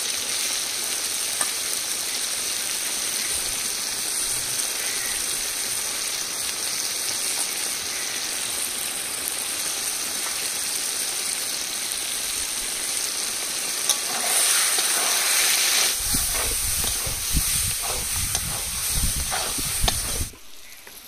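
Chili and cumin paste spices sizzling steadily in hot oil for chicken biryani, a continuous close frying hiss, turning louder and rougher near the end with stirring scrapes.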